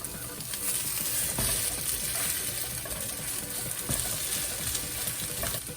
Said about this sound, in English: so now we can check it and flip it when it's nice and golden brown.